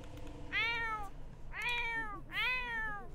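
Cat meowing in The Sims video game: three drawn-out, plaintive meows spaced about a second apart, clear and fairly close over soft background game sound.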